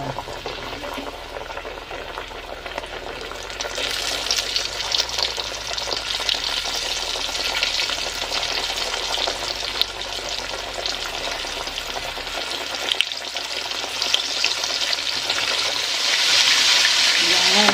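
Tempura frying in hot oil, a steady close hiss and crackle of bubbling oil that grows louder and brighter as the batter goes in and keeps sizzling to the end.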